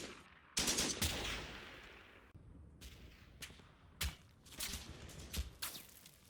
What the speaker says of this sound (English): The weapons platoon's machine guns add to the firepower.